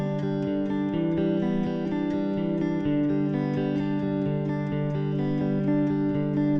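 An acoustic guitar picks a riff at full tempo, a repeating arpeggiated pattern of clear, ringing notes played close and loud with no voice.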